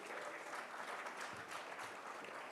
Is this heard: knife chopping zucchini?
no